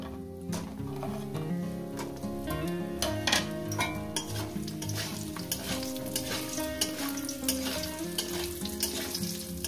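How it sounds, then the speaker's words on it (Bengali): Lentil dumplings (bori, made from biuli dal paste) fry in hot oil in a pan that has just held fried fish, a steady close sizzle broken by frequent sharp clinks and scrapes of a utensil against the pan. "এরপর আমি এর সব বড়ি দিয়ে দেবো। বড়িগুলো ভেজে নেব।"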